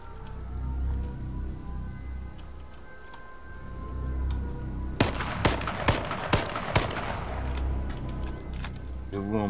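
About half a dozen sharp gunshots crack in quick succession in the H1Z1 battle royale game, standing out over steady low game ambience and a faint voice.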